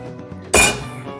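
A hot cast iron pot, just out of the oven after preheating for baking artisan bread, is set down on a trivet with a single sharp clank in an otherwise quiet kitchen.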